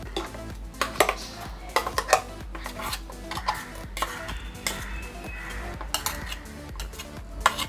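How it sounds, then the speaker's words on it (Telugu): Metal utensils clink and scrape against bowls as hotel-style chutney is moved into another bowl, giving irregular close taps and rattles over a quiet kitchen background with no talk. "దీన్ని వేరే బౌల్లోకి ట్రాన్స్ఫర్ చేసుకోవాలి"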